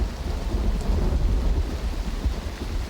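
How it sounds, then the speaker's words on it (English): Steady rain and rumbling thunder fill an outdoor scene in the video game Uru: Complete Chronicles, a dense, continuous downpour with low rolling rumble throughout and no voices. "I'm sure they probably found the rain very soothing."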